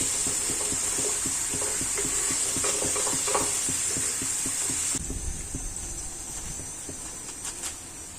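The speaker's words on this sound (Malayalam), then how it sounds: "രണ്ട് ഭാഗവും ബ്രൗൺ കളർ ആവുന്നത് വരെ നമുക്കിത് ഫ്രൈ ചെയ്തെടുക്കണം" A snack deep-fries in oil over medium heat, browning on both sides. A dense crackling sizzle runs for about five seconds, then drops to a quieter, thinner bubbling with scattered pops.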